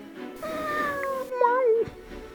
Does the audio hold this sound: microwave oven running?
no